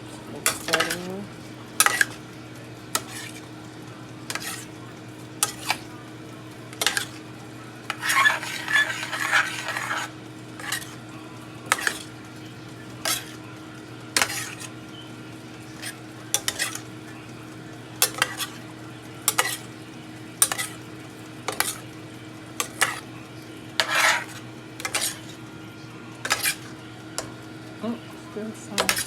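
Homemade turkey spaghetti sauce being stirred in a pot on the stove, with a spoon scraping and knocking against the sides in repeated sharp clicks, over a steady low hum and a faint bubbling simmer.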